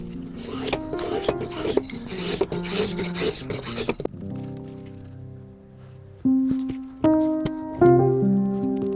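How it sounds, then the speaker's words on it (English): A rasp files the corners off a wooden mallet handle made from scrap wood, in quick rough strokes with short pauses, then gives way to a few tonal knocks and rubbing sounds near the end. "So I'm just going to take and knock off these corners."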